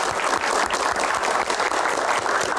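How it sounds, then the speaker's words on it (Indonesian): Audience applause at a Q&A session, a steady, dense wash of clapping that holds at an even level from start to finish with no voices over it. "Tepuk tangan, terima kasih."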